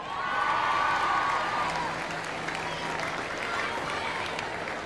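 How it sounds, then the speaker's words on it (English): Outdoor street crowd at a Davis Cup victory parade in Melbourne's city centre, sustained applause with cheers and whoops, broad and distant-sounding, with an amplified voice briefly audible. "Now, could you keep the applause coming for some legends of the Davis Cup over the years?"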